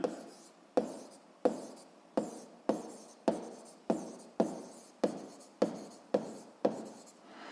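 A pen writes on paper in regular strokes, about eleven crisp scratches at roughly even spacing, close and clear with no talking.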